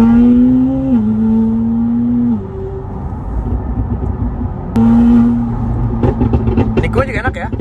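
McLaren 720S engine revving under acceleration, a loud rising tone that drops off, then surges again, heard from inside the car with people talking over it.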